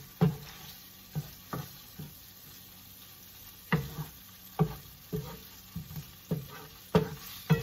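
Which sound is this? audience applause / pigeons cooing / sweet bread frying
sweet bread frying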